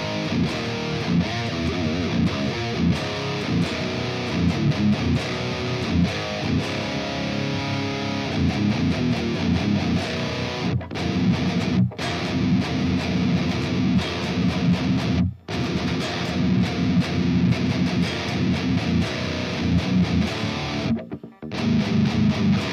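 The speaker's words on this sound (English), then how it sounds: "I turn my overdrive on." Overdriven electric guitar through an Amped ICON amp with the overdrive pedal switched on, playing a dense, sustained distorted riff that runs loud and continuous, broken only by a few brief pauses.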